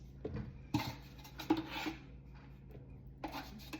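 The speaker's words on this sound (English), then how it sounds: "So I add 2 scoops per serving. So I'm making 2, so that's 4 scoops." Protein powder being scooped from a tub for a cinnamon roll protein shake: a few scraping, rustling scoops and soft taps of the scoop, close but quiet, with no talking.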